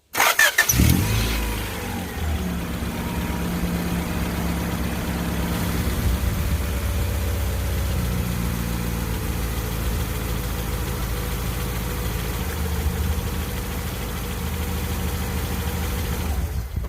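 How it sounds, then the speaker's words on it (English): A car engine, newly fitted with an oil catch can, cranks and catches with a loud burst, then settles into a steady, low rumbling idle that continues evenly to the end. "So we'll start the car back up and you'll see that it's running better."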